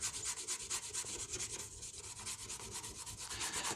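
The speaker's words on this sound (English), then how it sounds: "I'm just going over the areas, Scotch-Briting it, scuffing it up, so this way here I can paint the Bedliner." Abrasive Scotch-Brite pad scuffing the bed of a 2004 Chevy Suburban 2500 before bedliner paint, a steady close rubbing hiss with quick rhythmic back-and-forth strokes, no talk.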